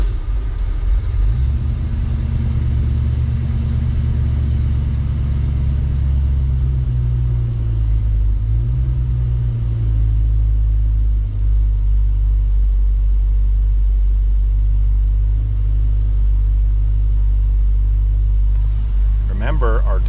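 A 1966 Ford Mustang fitted with Sniper EFI cranks and catches. It settles into a steady, loud, close rumbling idle that runs slightly high, with a brief rev-like flutter near the end.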